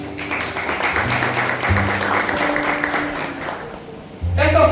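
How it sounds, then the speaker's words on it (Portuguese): Church congregation applauding during a Wednesday service, a steady wash of clapping under sustained organ or keyboard chords, fading toward the end before a louder swell returns. "Uma salva de palmas para os irmãos."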